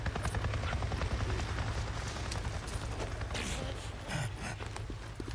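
Helicopter from the game Days Gone flying overhead: a steady low rotor thump and engine drone held loud and close throughout, with faint mechanical clatter on top.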